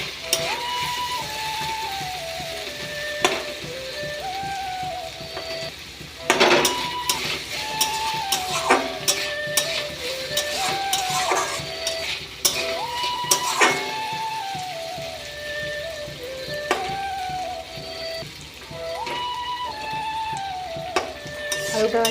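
Potato and carrot frying in a pan are stirred, giving a soft sizzle under repeated scraping and clinking of the utensil against the pan, while a person talks and music plays in the background.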